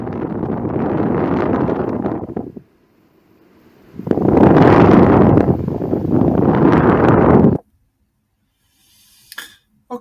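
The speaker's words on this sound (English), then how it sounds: "And then finally, the dehumidifier" Broadband whooshing hum of a dehumidifier in two loud bursts, stopping abruptly, followed by near silence with a couple of faint clicks.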